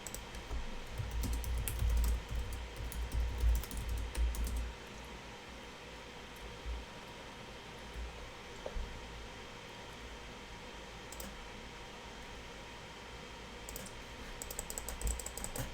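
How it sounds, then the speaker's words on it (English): Repeated clicks on a computer while restarting the Arena game client, sounding as a dense burst of quick keyboard and mouse clicks for the first few seconds, then scattered faint clicks over steady fan-like hiss. "Clicking, clicking."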